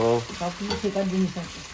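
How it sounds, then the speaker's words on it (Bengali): Oil sizzles steadily as an egg fries in a hot pan for an egg roll, a continuous crackling fry with faint voices and tonal hum underneath. "এখন এটা ডিমটা কড়াই ভেজে নিচ্ছে"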